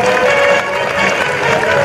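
Crowd applauds schoolchildren marching in a 25 March national-day parade, a close, loud and continuous wash of clapping with a murmur of crowd noise underneath, lasting about two seconds.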